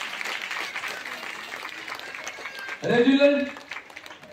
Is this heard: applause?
yes